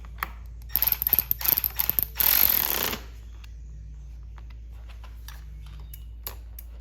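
A wrench clicks and ratchets against a 10 mm nut on a DRZ400SM motorcycle lever, giving a quick run of close metallic ticks and a short rasping burst, then faint scattered taps in a quiet room.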